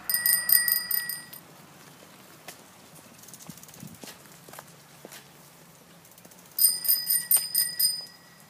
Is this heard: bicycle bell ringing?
yes